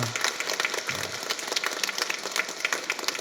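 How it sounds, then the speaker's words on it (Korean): Catholic church congregation clapping to welcome newcomers at Mass, a dense, continuous round of applause with rapid overlapping claps and a faint low hum beneath. "우리 환영의 박수 쳐주시기 바랍니다."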